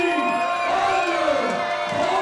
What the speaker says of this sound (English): Listen to the crowd response, Ken, for three under par.